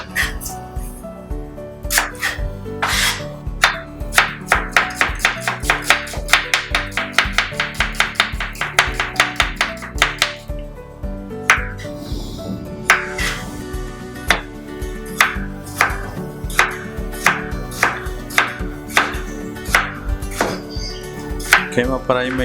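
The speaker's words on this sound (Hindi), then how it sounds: "पहले प्याज को काट लेते हैं।" A knife chopping onion on a board in a home kitchen, making rapid close, loud taps that come as a fast burst, slow briefly, then return as a steadier series of crisp cuts, with no talk over them.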